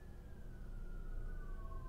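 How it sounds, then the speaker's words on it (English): Emergency siren wailing outside at a distance, a thin descending tone faintly audible over low background rumble. "is that the sirens?"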